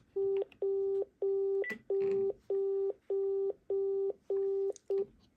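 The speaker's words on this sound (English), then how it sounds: "On Panasonic models before 2013, the busy tone used is the intercom busy tone," On a pre-2013 Panasonic cordless phone, the intercom busy tone repeats as nine evenly spaced steady beeps, each about a third of a second long with short gaps between them, clear and close with faint background noise.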